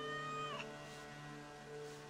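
A cat meows softly in Assassin's Creed Valhalla, a single short, faint meow over steady tonal game ambience, with no talk.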